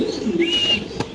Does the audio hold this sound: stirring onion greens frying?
no